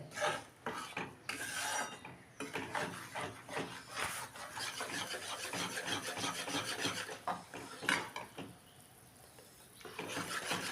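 Wheat flour being stirred and roasted in ghee in a pan for sukhdi, giving steady scraping and rasping strokes of a spoon against the pan, close and continuous with brief pauses.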